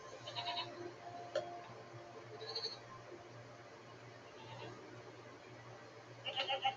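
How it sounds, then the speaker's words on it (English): Goat-like creatures in a video game bleat in short, faint calls, several spaced across a steady background hum, with a cluster of bleats at the end. "What are these strange goat-like creatures? Are they simply goats?"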